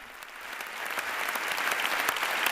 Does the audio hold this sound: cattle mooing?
no